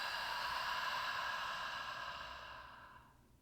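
A slow, deep exhale during a guided breathing exercise, a long airy breath that holds steady and then fades away over a few seconds, alone without talk.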